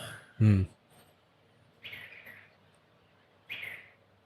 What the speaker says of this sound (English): That is a brown-crested flycatcher again.